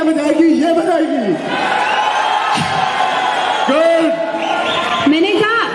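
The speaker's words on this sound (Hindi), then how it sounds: "आप पहले शोर बजाएं, ताली बजाएं" An audience at a World Dance Day arts event whooping and cheering, a loud continuous crowd roar with shouted calls rising over it throughout.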